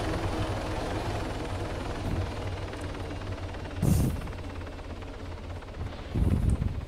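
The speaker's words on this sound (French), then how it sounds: "Mais c'est un hélicoptère, mec, c'est pas un avion." A helicopter in a multiplayer war video game sends a steady rotor drone through the whole passage, with a few louder gusty bursts on top.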